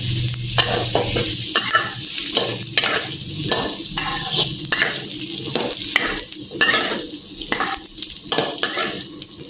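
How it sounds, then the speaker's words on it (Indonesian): Sausages fry in hot oil while being stirred, with loud continuous sizzling broken by a regular rhythm of spatula scrapes and clacks against the pan, close up throughout. "Ini kita mau goreng sebentar sosisnya"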